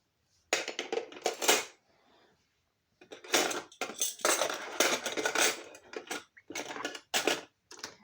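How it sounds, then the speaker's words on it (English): Metal baby spoons and other cutlery being sorted and put away in a kitchen drawer: bursts of close, bright clinking and jangling, a short pause, then more clattering handfuls, no talking. "And my baby spoons."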